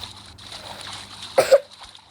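A swimming splash in a Halloween-themed video game: one brief, sharp watery burst standing out over a low background hum, with no voice over it.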